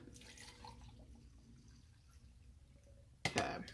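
Water poured into a NutriBullet blender cup with hot pepper and other ingredients, faint dripping and trickling at first, then a sudden louder splashing pour near the end.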